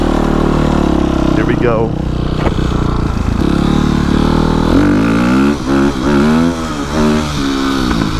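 A 2007 dirt bike engine fires up and revs hard, loud and close, with rising and falling bursts of throttle. Someone speaks briefly over the engine noise.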